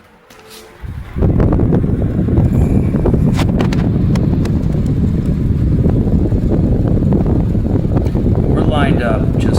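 A Western Harmonics 20 inch solar floor fan starts up on low speed, its airflow swelling within a second into a steady, loud, broadband rushing whoosh that holds constant, with a few faint clicks on top.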